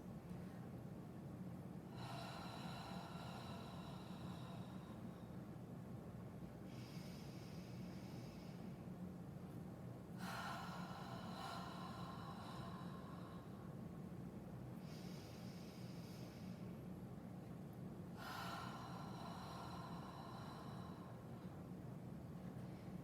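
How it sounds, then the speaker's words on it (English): A person does a slow vagal breathing exercise, exhaling and inhaling. Five soft, airy breaths come at unhurried intervals of about four seconds, faint against a quiet hum of background noise. "exhalation on the count of 4 and then breathing in on the count of 3"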